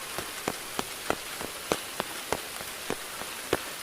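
Rain falls steadily as a soft broadband hiss, with distinct drops striking hard surfaces at a roughly regular beat, moderately close, with no voices.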